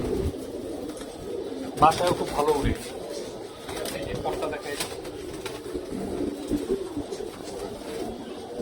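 Pure-bloodline female pigeons coo softly in a loft while someone talks over them, with a brief louder flutter of bird sounds near the start.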